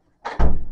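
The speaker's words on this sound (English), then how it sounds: "I need you to close that door for me." A door swings shut in a room, giving a short scrape followed by a solid thud, near and fairly loud.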